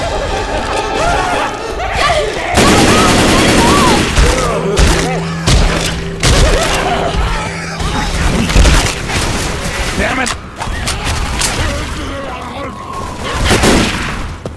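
Gunfire in Left 4 Dead 2 during the Death Toll campaign: loud bursts of shots and heavy thuds come in uneven clusters, mixed with game chatter and a shouted voice.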